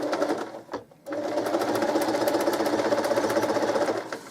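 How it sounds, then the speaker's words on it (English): A sewing machine stitches two quilt blocks together with a quarter-inch seam, a brief start, a short pause, then a steady fast mechanical hum close up with no speech. "So I'm going to stitch my 2 blocks together."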